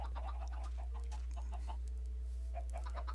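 Several video game chickens on a chicken farm clucking in short scattered bursts over a constant low electronic hum, faint and somewhat distant.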